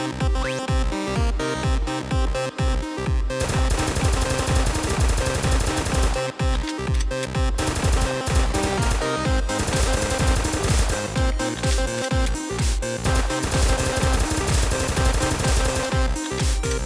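Rapid bursts of automatic fire from a Kriss Vector in a Roblox game crackle loud and dense, a long run of sharp shots broken by brief pauses.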